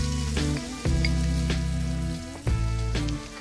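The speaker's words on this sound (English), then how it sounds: "Fry the veg for around 7 minutes, and then add in some diced pancetta." Vegetables fry with diced pancetta in a hot pan, a steady sizzle running under a loud tonal hum that drops out briefly twice.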